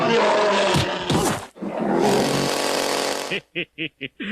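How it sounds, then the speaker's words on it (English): A grizzly bear roars loudly, mixed with a chainsaw's harsh running drone, followed near the end by several short, rhythmic bursts. "A grizzly bear with a chainsaw."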